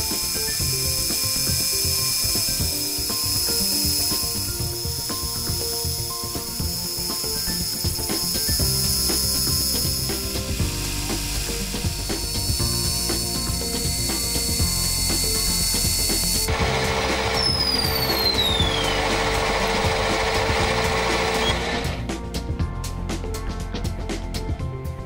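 A home machine-shop lathe turns small ornamental discs for a clock, giving a steady mechanical whir and hum with ratcheting, scraping cutting noise that shifts in pitch as the work changes, loud and continuous.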